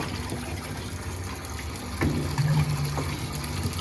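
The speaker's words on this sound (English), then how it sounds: "we're gonna pour in another gallon" A gallon of water pours into an engine cylinder block being cleaned after diamond honing, a continuous close gush with splashing that swells briefly in the middle.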